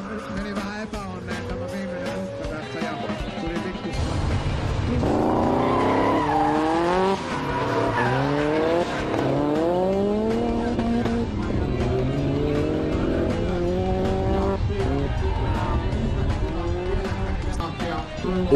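Race cars, including a gold Nissan, a BMW and a Lotus Omega, slide through drifts at a tuning car competition, engines roaring loudly and steadily throughout, with rising and falling revs as they hold long slides, and a voice talking over the top.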